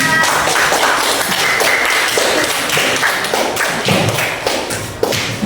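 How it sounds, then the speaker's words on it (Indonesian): A classroom audience at a microteaching session applauds a presenting student group, with dense, steady clapping that holds throughout. "Tepuk tangan untuk kelompok 4"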